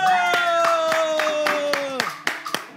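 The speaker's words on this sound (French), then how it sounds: "Et si tu es fier d'être Togolais, applaudis pour ça." Audience clapping at a Togolese live show, a burst of claps heard under music with a sustained melodic tone, thinning out to scattered claps near the end.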